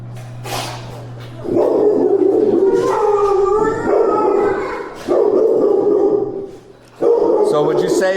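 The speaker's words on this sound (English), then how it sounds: "the dog barking at him" Dogs, among them a Rottweiler, a Staffordshire terrier and a Doberman, bark in loud repeated bursts at a close range, with people talking in between.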